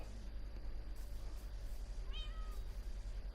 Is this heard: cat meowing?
yes